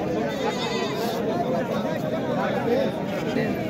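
Native deshi goats bleat at a rural livestock market in Taherpur, Bangladesh, with scattered calls rising over constant crowd chatter and voices of traders.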